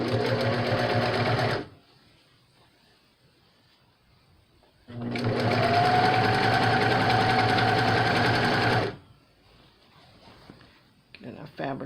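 A sewing machine stitches T-shirt quilt fabric at a quarter-inch seam in two loud close bursts, about 1.5 and 4 seconds long, with a quiet pause between them.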